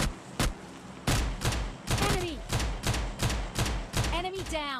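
Pistol shots in PUBG Mobile Lite crack out in a steady run of about ten sharp single reports at roughly half-second intervals, with a voice talking faintly beneath the firing.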